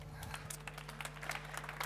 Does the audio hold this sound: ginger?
no